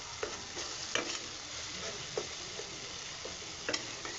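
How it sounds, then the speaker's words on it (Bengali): Masala with cumin powder and tomatoes is stir-fried in oil in a pan, giving a constant close sizzle broken by repeated spatula scrapes and taps at an uneven rhythm. "এটা আমি ভালো করে একটু কষে নিচ্ছি"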